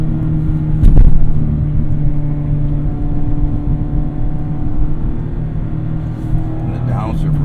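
A Mazda Miata ND engine with a race exhaust drones steadily with a deep exhaust note while driving, rising briefly in a rev, while a voice talks over it.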